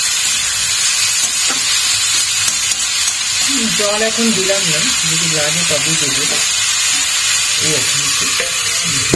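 Small shrimp and cucumber fry in a kadai with a loud, steady hiss and sizzle close by, while someone talks over the cooking.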